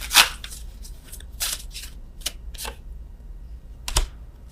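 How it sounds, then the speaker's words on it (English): Tarot cards being shuffled by hand, with crisp riffling bursts and soft slaps spread irregularly across several seconds, close and fairly loud, with no talking. "I'm shuffling these cards again"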